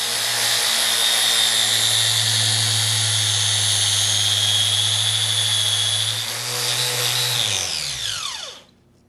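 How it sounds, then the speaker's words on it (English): A concrete polishing machine fitted with diamond pads works a floor surface, giving a loud, steady high whine over a low motor hum that holds for several seconds before the motor winds down and fades out. "During the polishing process, you just simply want to work the area."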